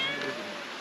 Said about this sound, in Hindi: इधर एक चोर बिल्ली है फंस गया पीछे।